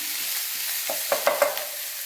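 Chopped onions sautéing in a pan for a chicken parts fry, stirred with a utensil that clinks against the pan a few times over a steady, close sizzle.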